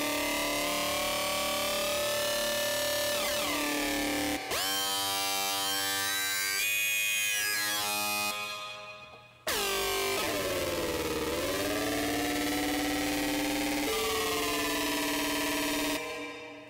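A high growling synth patch plays in Reason 6.5, loud, buzzy and harmonically rich, with sustained notes that bend and sweep in pitch, cut out briefly, then return with further sweeps.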